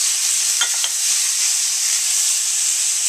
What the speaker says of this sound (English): that loud sound that you're hearing is stir frying